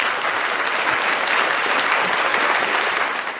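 A crowd gives a dense, even round of applause for boxer Charles Conwell at a boxing event, sustained and close before easing slightly at the end.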